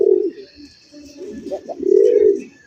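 A pair of fancy sky-blue Rajgolla pigeons coo in a few soft, low, throaty bursts close by, with a fuller coo near the end and no talking.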